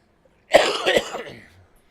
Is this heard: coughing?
yes